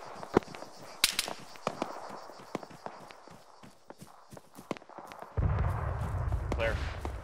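Gunfire in a military video game rings out as sharp, scattered cracks and pops of varying loudness, some near and some distant, before a rumbling vehicle-like noise takes over near the end.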